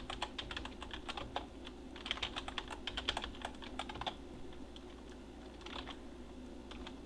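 Keys clatter on a computer keyboard as a command is typed into a text-based adventure game, in quick irregular bursts of close, light clicks with no talking.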